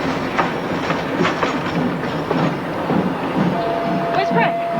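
A passenger train rolling along with steady rumble and rhythmic wheel clicks, moderately loud and continuous, with a brief sustained tone near the end and voices faintly mixed in.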